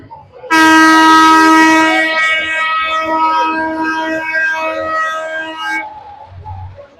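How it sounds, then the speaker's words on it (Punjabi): A dragon train amusement ride at a Dussehra fair in Ludhiana gives a loud, sustained horn-like tone that starts abruptly, holds steady for about five seconds, then cuts off, with faint crowd noise beneath. "ਡਰੈਗਨ ਟ੍ਰੇਨ ਕਹਿੰਦੇ ਇਹਨੂੰ ਡਰੈਗਨ ਟ੍ਰੇਨ ਆ ਗਈ ਜੀ"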